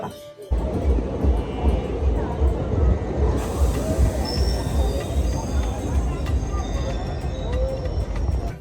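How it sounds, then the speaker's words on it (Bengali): A train speeds past Barrackpore junction toward Naihati; a dense, steady rushing roar with hiss and faint chatter fills the whole stretch after a brief quiet opening. "দেখো অনেক স্পিডেই টানছে ট্রেনটা"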